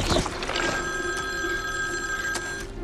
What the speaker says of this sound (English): Ann is on the phone, Eddie